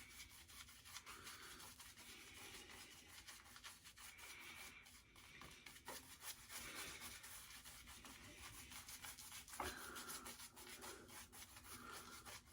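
Artiest Man shaving cream being rubbed by hand over a head before a wet shave with a Pitbull Silver PRO skull shaver, a steady close, soft rubbing and smearing sound that runs throughout without talk.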